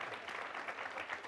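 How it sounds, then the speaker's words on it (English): A studio audience claps in a short, even burst of applause, moderately quiet and without any voices over it. "amazing applause for you"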